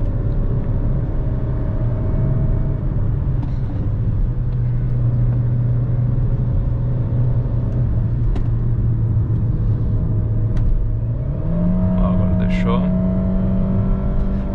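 A Jeep Renegade Longitude 1.8 Flex automatic from 2020 climbs a mountain road held at about 3,500 rpm. It gives a steady, strained engine drone from inside the cabin that rises in pitch near the end, with someone talking over it.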